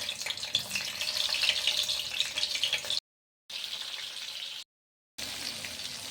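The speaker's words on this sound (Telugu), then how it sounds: "స్టఫ్ చేసుకున్న మిర్చీలన్నీ ఆయిల్లో ఫ్రై చేయాలి" Stuffed green chillies frying in oil give a steady bright sizzle and crackle, moderately loud and continuous, broken by two brief silent cuts.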